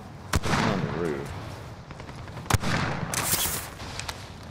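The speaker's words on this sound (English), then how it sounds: "Yep, he's shooting me again." Gunfire in Warzone Rebirth, two sharp near shots standing out with fainter pops later, over steady game ambience while players talk.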